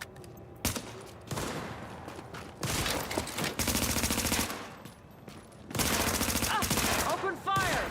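Rapid automatic gunfire in The Division video game, loud sustained bursts of shots separated by brief pauses, with faint voices underneath.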